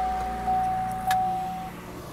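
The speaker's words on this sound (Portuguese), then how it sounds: "Vou desligar aqui o carro" A 2011 Chevrolet Camaro SS with a 6.2L V8 being switched off inside the cabin, a low hum fading away with a couple of soft clicks and a faint steady tone.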